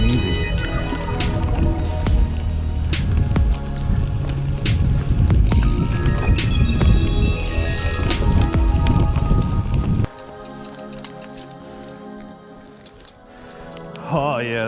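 A Polygon Xtrada 7 mountain bike is ridden with smooth gear changes, giving a steady rolling, rattling trail noise close by that drops to a quieter hum partway through.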